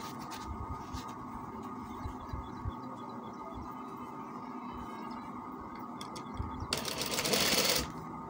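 A sewing machine runs at a steady hum while stitching a kameez, the needle chattering softly and briefly speeding up louder near the end.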